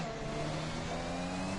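A race car in a racing video game accelerating hard around the Baku circuit, its engine a loud, steady, rising drone heard close and alone.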